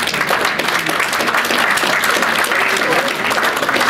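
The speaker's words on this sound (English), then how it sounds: "So give him a big round of applause" An audience breaks into steady, dense applause at an interview event in a café, loud and sustained throughout with no pauses.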